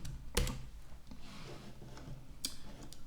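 A few scattered clicks of typing on a computer keyboard during a CAD sketching session, with a sharp louder tap near the start and another later, close and fairly quiet.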